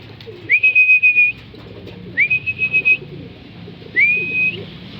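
Young racing pigeons in a loft give three thin, rising whistled calls, each held briefly and spaced about two seconds apart, clear and close over a quiet, low rumbling background.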